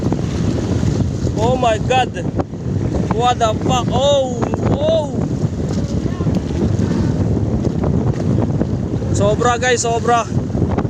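Strong wind roars steadily across the microphone on a small fishing boat out on rough open sea in stormy weather, with waves and hull noise beneath and people shouting and talking excitedly in bursts over the gusts.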